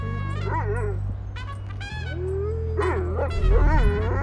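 Chop the dog in Grand Theft Auto 5 barking, yipping and whimpering in several close, loud bursts over a low engine-like rumble.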